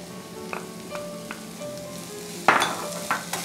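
Garlic and spring onions sauté in olive oil in a deep non-stick pan, a moderate steady sizzle with scattered clicks of a utensil and a louder burst of spitting and stirring near the end.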